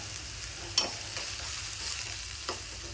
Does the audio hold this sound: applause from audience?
no